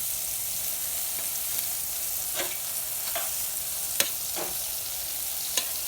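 Big sirloin steaks sizzle steadily on a STOK drum grill, a continuous bright hiss broken by a few sharp pops and crackles, close and alone.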